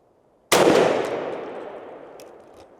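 A turkey shotgun firing a TSS shot shell blend, one sharp loud blast nearby followed by a long echoing decay that fades over about two seconds.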